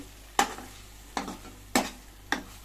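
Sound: stirring and mixing tomato curry in a pan

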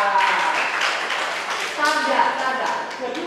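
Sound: audience clapping

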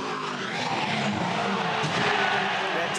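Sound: racing car crash, tires skidding

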